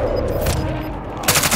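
Automatic gunfire crackles in a dense burst during an online shooter match, continuous and close, with a louder, sharper stretch of shots toward the end.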